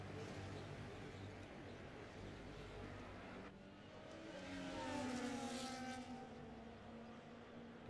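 Race cars in a racing video game rolling off on a formation lap at Miami, a low engine drone that swells and rises in pitch as the cars pull away, continuous and moderately loud.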